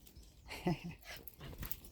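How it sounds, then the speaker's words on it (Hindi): A small dog in a Himachal village yard gives soft, brief whimpers and yips, fairly close but faint, over a light background hum. "ये छोटी डॉगी देखिए सबसे पहले तो।"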